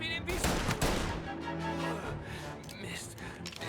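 Gunfire in the video game Mafia Definitive Edition, a shootout with the FBI: rapid bursts of shots followed by scattered reports, mixed with other game sounds.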